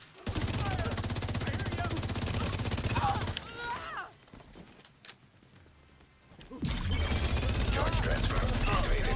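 Rapid automatic gunfire in a video game, loud sustained bursts for several seconds, a quieter lull, then heavy shooting again, mixed with game voices.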